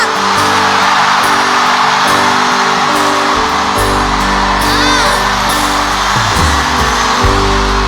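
A concert crowd at a show applauds warmly to welcome a guest singer: loud, dense, continuous clapping and cheering over steady low music.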